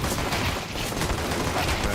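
Rapid pistol fire from dual pistols in a Counter-Strike pistol round, a dense steady crackle of shots filling the whole moment with no voices over it.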